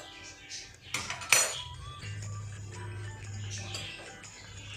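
A lid set over a pot of cooking mutton: a couple of sharp metallic clanks close up, then a low steady hum of the stove underneath.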